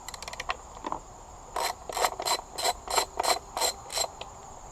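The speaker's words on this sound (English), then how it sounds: "Remove the 3 bolts to take off the pull start." A ratchet wrench removes the three bolts holding a pull start assembly: a quick run of clicks, then about eight short, evenly spaced bursts of close-up ratcheting.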